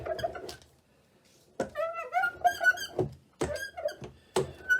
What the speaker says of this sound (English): A squeaky roller.